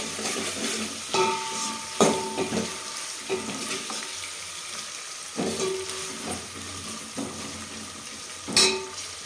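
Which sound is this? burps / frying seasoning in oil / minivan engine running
frying seasoning in oil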